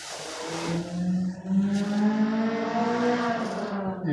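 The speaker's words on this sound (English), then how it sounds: "You step on the brake, push the button, and starts it up." A 2016 Nissan Altima sedan starts by push button and its engine hums at a steady, close idle with a smooth low drone, alone without talk.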